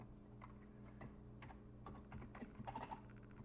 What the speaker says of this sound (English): So this is a new keyboard. You know, I'm not usually this bad at typing